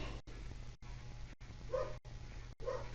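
Dogs, some of them being dog-sat, bark in short bursts in the background of a quiet indoor room, with low hum throughout and a couple of brief louder yelps.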